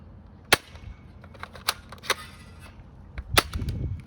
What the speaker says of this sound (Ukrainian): Автомат стріляє тільки одиночними.